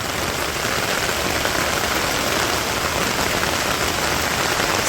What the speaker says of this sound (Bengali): কি পরিমাণ বৃষ্টি হয়েছে, একদম পানি জমে গেছে